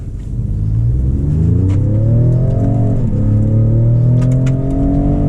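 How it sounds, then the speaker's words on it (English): A 2020 Ford Raptor truck launches under hard acceleration, its engine rumbling loud and close as the revs climb, dip briefly at a gear change, then rise again. "No video is going to be complete without doing a little bit of a launch, so we'll kind of launch it"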